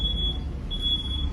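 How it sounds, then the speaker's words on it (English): Semi truck backing up with a trailer: a high reverse-warning beep sounds twice, each tone long and steady, above a low engine rumble. "This is a semi backing up with a trailer."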